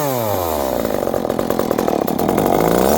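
Husqvarna chainsaw engine running rough with an over-rich carburetor, revving and sagging loudly and unevenly close by, with no talk over it.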